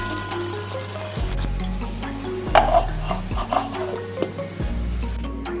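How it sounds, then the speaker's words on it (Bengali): Fried onions (beresta) being stirred and mixed in a pan for chicken korma, with scraping strokes, soft clatter and low background hum, close up and without talk. "এবার আমি পেঁয়াজ বেরেস্তাটা আমি ভালো করে মিক্স করে নেব।"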